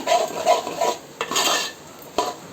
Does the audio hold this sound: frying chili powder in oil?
yes